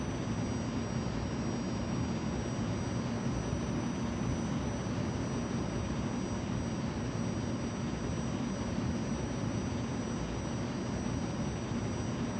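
Steady airplane engine roar from Flight Simulator 2020, throttled down with air brakes out, a broad continuous drone holding level for the whole stretch without voices.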